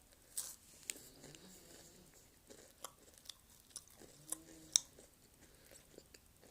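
A filled biscuit with a honey-syrup scent is snapped in two and eaten, giving a few sharp close crunches and bites followed by soft chewing in an otherwise quiet setting.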